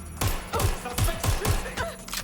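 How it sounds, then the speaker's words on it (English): A burst of gunfire in the London-set action game Watch Dogs: Legion, five or six heavy, booming shots in a quick, even rhythm, loud and close, over a low background rumble. "Taking fire."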